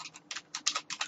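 A short, close burst of computer keyboard typing as a command is entered: about eight quick, crisp key clicks in uneven pairs, with no talking.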